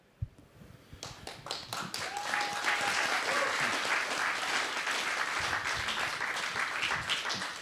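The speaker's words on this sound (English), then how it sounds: "another round of applause for Farida" Audience applause at a theater talk session, steady dense clapping that builds from a few claps into a sustained, fairly distant round.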